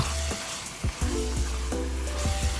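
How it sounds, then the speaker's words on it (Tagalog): Ground pork with potato and carrot sizzles in a pan under a steady hiss, with a few soft scraping stirs mixed into the frying. "Then, haluin lang natin ang bahagya. Kasi dumidikit dito sa ating pinakailalim."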